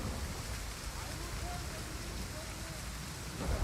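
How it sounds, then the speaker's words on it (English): Steady rain falling in the battlefield of the strategy game Total War Pharaoh, a soft continuous hiss with a low rumble beneath, fairly quiet and unbroken. "Oh, it's raining."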